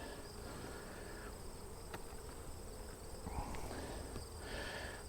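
Honey bees in an opened hive with partly built frames and supers of foundation, a continuous faint swarm-like buzzing hum, close and steady with no talking.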